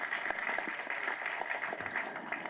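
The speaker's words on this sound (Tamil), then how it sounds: "கைத்தட்டுங்க அவங்க தமிழ் டீச்சர்" Audience applause at a Tamil movie audio launch, heard as a faint, distant patter of clapping from a hall crowd that holds steady throughout.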